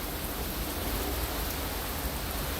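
Steady rain falls outdoors at Disney's Art of Animation Resort, a dense, even hiss across the whole span with no gaps and no voices, heavy and close.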